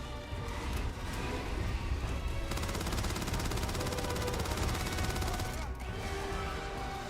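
Rapid automatic fire from a Grendel rifle in a video game, sustained bursts rattling steadily with brief pauses, loud and close.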